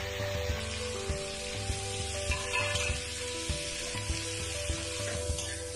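Onions with cumin seeds and bay leaves frying in oil for a chicken curry give off a steady close sizzle, broken by soft regular taps and scrapes of a spoon in the pan.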